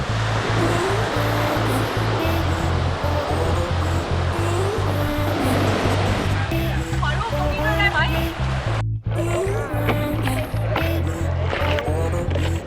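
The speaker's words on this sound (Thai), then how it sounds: "อันนี้เราก็พายออกมารอคลื่นนะคะ จับคลื่นะคะ" Ocean surf at Kata Beach, Phuket, heard while surfing: a continuous loud wash of breaking waves and churning water, with voices talking over it and a steady low rhythmic tone throughout.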